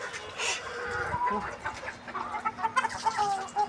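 A large rooster at a home coop, clucking in short, uneven bursts close by, with background noise and a faint voice in the mix.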